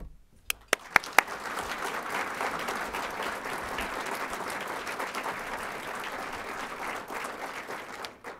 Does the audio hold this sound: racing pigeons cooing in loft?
no